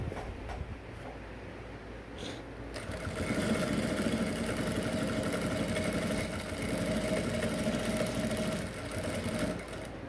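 A sewing machine stitching down the neck piping on an Ankara top, a steady fast mechanical whir that picks up after a short pause and runs continuously at moderate, close volume.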